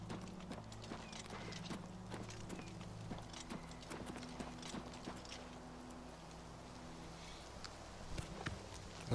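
Horse hooves clip-clop in a steady walking rhythm in the video game Oblivion Remastered, fairly faint with light mechanical clatter underneath and no voices.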